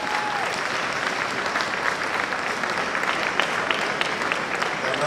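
An audience claps in dense, sustained applause after a presentation, fairly loud and even throughout without a break, with no speech over it.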